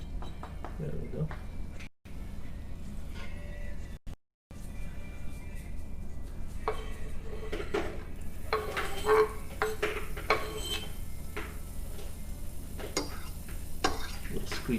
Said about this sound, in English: All right, ginger is sizzling,